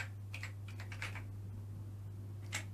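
Fingers tapping on the rubbery keys of a ZX Spectrum computer, a handful of quick irregular keystroke clicks in short bursts close by, over a steady low electrical hum.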